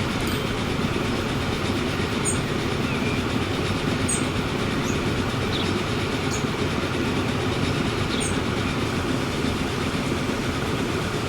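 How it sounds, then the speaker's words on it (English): Trains running in the video game Transport Fever 2 give a continuous, even rumble of rolling rail wagons with faint clicking and a few high chirps above it, and no one speaks. "Just watching the trains."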